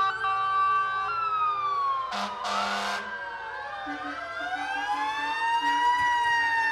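A fire engine siren, Engine 5 from Lunenburg, wails loudly in a town centennial parade, its tone sweeping up and down with brief horn blasts cutting in as it passes close by.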